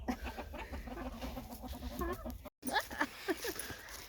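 A broody hen sitting on day-old chicks clucks softly in short, repeated bursts, close by, with a brief gap of silence partway through.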